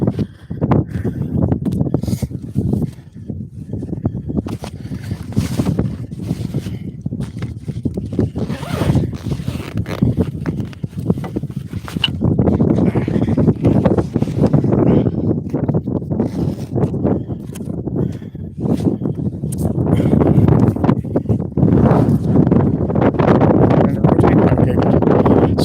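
Wind blows outdoors, buffeting the microphone with a steady low rumble and gusty surges that continue for the whole stretch, with no clear talking over it.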